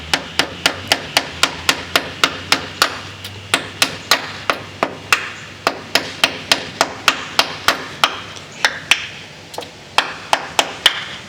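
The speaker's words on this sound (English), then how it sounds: "He's also using a smooth, flat hammer so that it won't put a bunch of dents into the wood." Steady blows from a smooth, flat-faced hammer striking nails into old wood on a rotten Victorian porch, sharp close taps repeating quickly and evenly, about two or three per second, with no talking.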